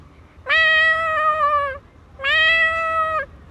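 A young child mimics a cat with two drawn-out meows, each over a second long and separated by a short pause, voiced close and clear with nothing else in the background.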